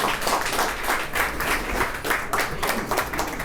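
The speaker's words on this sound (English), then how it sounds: "So if we can all give them a round of applause real quick." Audience applause at a Portugal Day kickoff celebration, a steady spread of clapping hands lasting a few seconds, moderately loud and fairly close, with no talking over it.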